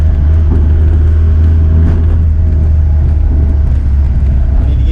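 A mechanically injected turbo diesel Volkswagen Jetta drones steadily on the road, its loud low engine rumble and road noise constant throughout, with no talking.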